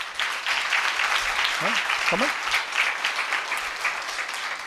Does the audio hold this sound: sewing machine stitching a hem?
no